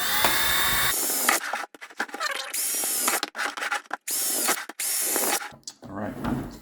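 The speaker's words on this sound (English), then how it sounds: "All you have to do next is take your drill" A power drill whines in repeated bursts, stopping and starting several times, while drilling holes in a plastic container for a DIY chicken waterer.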